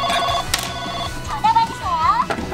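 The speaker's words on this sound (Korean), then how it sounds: "전화 받으세요." A Secret Jouju toy smartphone plays its electronic ringing melody, a bright warbling tune heard amid children's chatter and background noise.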